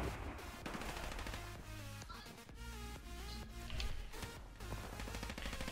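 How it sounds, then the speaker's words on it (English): Rapid gunfire rattles through a 5v5 Sabotage match in Modern Warfare Remastered, with bursts of shots blended into loud, busy game audio and effects that never let up. "Why am I getting gunned by Kyle?"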